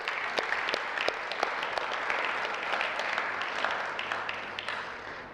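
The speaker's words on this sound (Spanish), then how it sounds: "¿No le da un aplauso al Señor?" A church congregation gives a steady round of applause, many hands clapping together in a dense, even wash that holds for several seconds before easing off.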